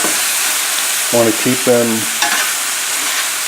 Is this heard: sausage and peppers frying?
yes